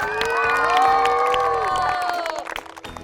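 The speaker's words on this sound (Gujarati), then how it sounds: "ભાઈ જોરદાર તાળીઓ થઈ જાય." A school crowd of children claps and cheers loudly in a sustained burst that tapers off near the end into scattered applause.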